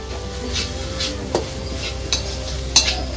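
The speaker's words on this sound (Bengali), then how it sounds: "খেজুরের গুড় দিয়ে একটু মাখা মাখা করে নারকেল চালটা ভেজে নেব" Grated coconut frying with date palm jaggery in a pan, a low steady sizzle with soft stirring strokes and a few sharp clinks of a utensil against the pan.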